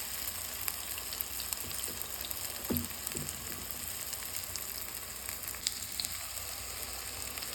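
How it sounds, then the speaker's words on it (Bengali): Lobia (black-eyed pea) vada fritters fry in hot oil with a steady, even sizzle throughout, a few soft clinks of a utensil near the middle, and no talking. "বড়াটা হয়ে গেলে ভেজে নেব আমি লোবিয়াটা।"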